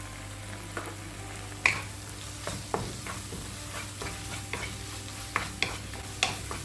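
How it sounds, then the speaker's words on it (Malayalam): Tomatoes sautéing in a pan, with a soft, steady sizzle and a series of light spatula scrapes and taps at irregular intervals, heard close without voices. "തക്കാളി നല്ല സോഫ്റ്റ് ആവുന്ന വരെ വഴറ്റിയെടുക്കാം"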